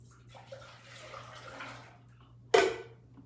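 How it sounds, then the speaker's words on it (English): Liquid poured into a container over a kitchen sink top, a short splashing burst rising near and fairly loud after a stretch of quieter kitchen noise. "I'm gonna pour this into here over the sink top"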